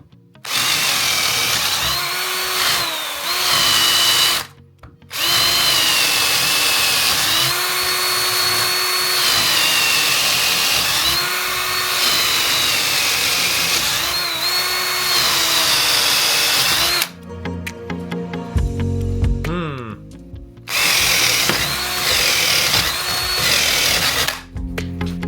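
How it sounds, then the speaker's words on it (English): Cordless drill with a hacked-in brushless motor bores through hard walnut, a loud, steady high whine with rhythmic load dips as the bit cuts, briefly stopping twice before resuming close up. "it didn't seem to bog down at all going through hard walnut with this drill bit."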